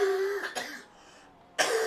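One person coughs and clears their throat in a couple of sharp, close bursts with a short quiet gap between them, heard during a sim racing broadcast at Bathurst.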